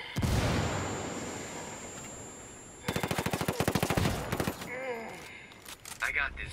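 An H&K MP5 fires in the Ghost Recon Wildlands video game: a loud sharp shot at the start, then a long rapid automatic burst, followed by scattered shots and a brief voice.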